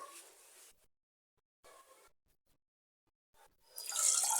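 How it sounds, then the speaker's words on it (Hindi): Water poured into a pot for boiling in a home kitchen, heard as short bursts of splashing separated by silent gaps, ending in a louder, brighter pour, close by with no talking. "इसके अंदर 2 गिलास पानी ऐड करना है आपने"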